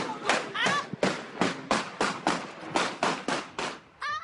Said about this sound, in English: The explosion of gunfire that killed little Levante White was captured on a Facebook Live video